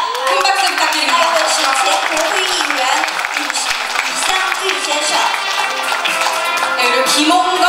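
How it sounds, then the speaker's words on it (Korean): Audience at an Ogival watch launch event in Korea breaks into sustained, dense applause, loud and continuous with a voice faintly talking beneath. "큰 박수 부탁드립니다."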